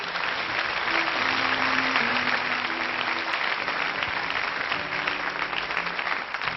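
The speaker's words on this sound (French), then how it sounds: "On applaudit très fort ce petit garçon." Steady applause fills a concert hall as an audience claps for a little boy at a singer's show, dense and even throughout with a faint musical tone lingering beneath.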